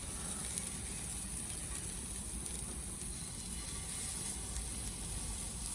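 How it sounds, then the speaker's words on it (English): Smash burgers sizzling in a smoking hot pan outdoors, a steady, even hiss of frying fat that continues alone without talk. "Listen to that sizzle."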